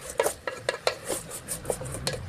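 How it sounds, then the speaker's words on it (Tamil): A metal spoon scrapes and clinks against a pan while tomatoes with salt are sautéed, a quick irregular series of close, bright knocks and scrapes over a faint sizzle. "வதக்கப்போம் அது வதக்கிறது கொஞ்சம் உப்பு அதெல்லாம் தக்காளி நல்லா வதங்கிடும்"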